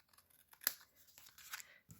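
Scissors cut through the edge of a paper card being trimmed for a stamped card project: a few quiet snips and tearing crinkles, with one sharp cut standing out near the middle, close and small.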